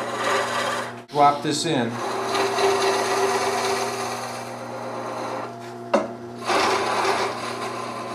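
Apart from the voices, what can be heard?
skew chisel cutting a bead on wood lathe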